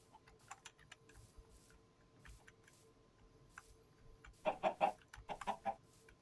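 Chickens clucking in the Minecraft mod Better Than Wolves, a few short, bright clucks bunched near the end, fairly close, over a quiet background with faint clicking.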